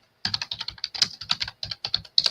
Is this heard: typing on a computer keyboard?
yes